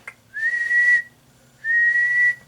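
Two steady sustained whistled tones into a radio microphone on a Browning Golden Eagle Mark III, each about half a second to a second long with a pause between, clear and close, no speech.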